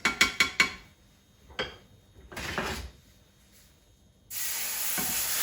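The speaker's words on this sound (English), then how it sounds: "you're going to just keep stirring as you're adding your milk" Sausage gravy in a pan, with a few quick utensil clinks and scrapes as milk is added and stirred, then a loud steady hiss of sizzling rises at the end.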